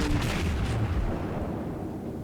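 Naval gunfire from the USS South Carolina in World of Warships: a heavy, deep artillery boom at the start that rolls off into a low rumbling decay, loud and alone.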